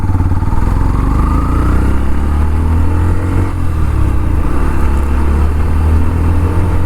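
A Yamaha FZ motorcycle ridden over speed breakers on a road, its engine droning loud and close throughout with slight shifts in pitch.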